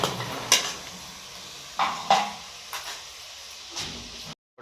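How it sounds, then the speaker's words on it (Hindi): Powdered red chili and salt roast in a pan, heard as scattered scrapes and clanks of a utensil against metal over a faint steady sizzle, with a few sharper stirring strokes spaced through the span. "पाउडर मसाले डालने के बाद 1 मिनट तक भुनाई कर लेते हैं।"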